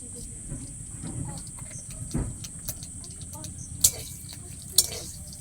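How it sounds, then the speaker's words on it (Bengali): Dried red chillies and a bay leaf frying in oil make a faint, steady sizzle with a few stirring clinks, under a voice talking. "শুকনো লঙ্কা তেলে আর তেজপাতা"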